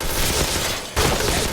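Rapid bursts of gunfire in a shooting video game, sustained and loud with a brief gap midway before the shots resume.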